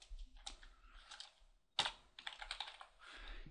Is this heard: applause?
no